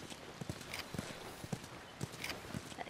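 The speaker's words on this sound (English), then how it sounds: "You guys have horses." Horse hooves clip-clop at a steady walking pace in the video game The Last of Us, with soft, fairly close footfalls and faint background ambience.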